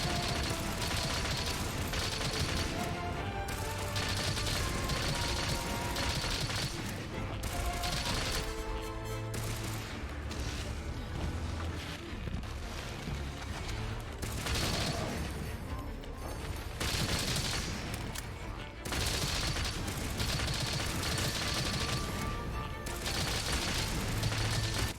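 Light bowgun firing steadily in Monster Hunter Rise during a fight with Magnamalo, dense rapid shot bursts and clacking reload mechanisms over layered music and battle effects, with a voice talking at times.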